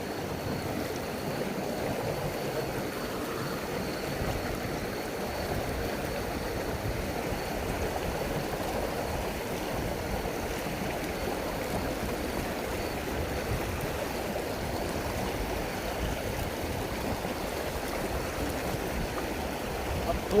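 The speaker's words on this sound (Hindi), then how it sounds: "ये देखिए आगे इसकी भी तेज है पानी का फ्लो।" Fast-flowing stream water rushes in a constant, even roar that holds unbroken from start to finish, moderately loud and close.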